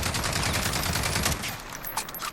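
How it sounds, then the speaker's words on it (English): L22A1 rifle in Call of Duty Modern Warfare fired on full auto, a dense loud burst of rapid shots for about one and a half seconds, then fading echo and a few quieter clicks. "So first I'm going to let this rip and not control the recoil."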